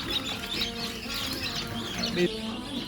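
Faint chirps and cheeps from chickens come from a poultry coop, scattered brief calls over a low background hum.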